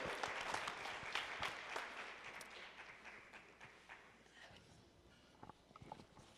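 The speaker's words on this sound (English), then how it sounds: "Let's give them a real big round of applause." An audience at a community panel summit applauds, a round of clapping that starts full and gradually thins into scattered claps before dying away.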